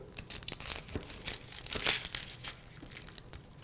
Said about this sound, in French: je tire sur la première peau pour l'éplucher